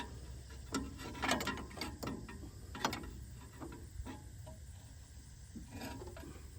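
A Caterpillar D4 dozer engine is turned over slowly by hand at the crank pulley, giving faint irregular mechanical clicks, clunks and ratcheting knocks close by with no talking.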